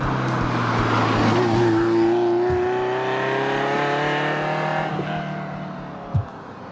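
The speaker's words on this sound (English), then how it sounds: "One of my favorite things about it is the sound of a Ferrari." A 1989 Ferrari Mondial t Coupe engine roars up through the revs with a rising, sustained growl, close by, then eases off and settles.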